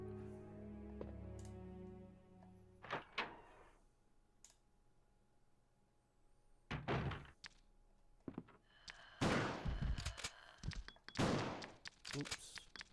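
Leon fires a shotgun in the 1998 PlayStation Resident Evil 2, with several sharp booming blasts spaced a second or two apart, some followed by short bursts of game noise. Someone talks briefly between shots.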